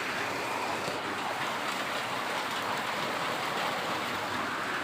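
Steady, even rain falling, a constant broadband hiss with no breaks, moderately loud and close.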